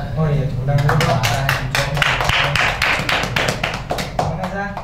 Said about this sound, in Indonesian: Oh iya, tepuk tangan dulu Pak.